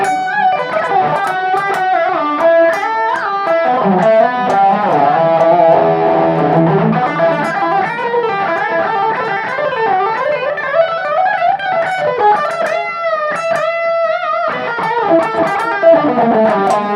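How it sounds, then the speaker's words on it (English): A distorted electric guitar on full distortion through the bridge humbucker, a Grainger Attis, plays a continuous melodic run of notes and chords, loud and up close, with no voices. "So this is on full distortion, back humbucker."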